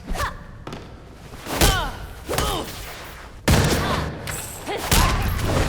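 Bursts of gunfire in the Gotham Knights video game, several loud sharp shots and volleys spread across the moment, with shouted voices between them.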